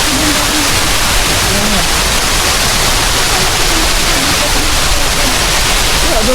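Water rushes loudly and continuously down into a sinkhole in the middle of a city in Australia, a dense close roar like a waterfall. A voice speaks briefly over the noise.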